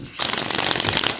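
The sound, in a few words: tarot cards being shuffled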